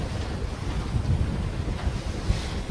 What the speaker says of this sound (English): And a good squall.